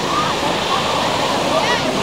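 Waves on a freshwater lake at Grand Bend Beach make a loud, continuous wash of surf, close and powerful, with no clear breaks in the rushing water.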